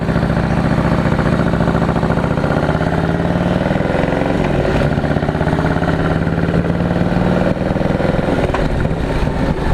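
A 2017 Harley-Davidson Heritage motorcycle engine running while ridden, a loud, steady, close V-twin drone with a slight shift in pitch as throttle changes, no talking over it.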